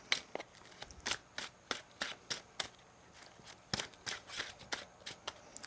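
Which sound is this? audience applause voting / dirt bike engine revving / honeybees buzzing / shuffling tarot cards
shuffling tarot cards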